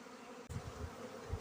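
Honey bees buzzing inside a single-box hive during a winter inspection, a low droning hum that swells suddenly after a brief quiet moment and holds steady, close and fairly faint.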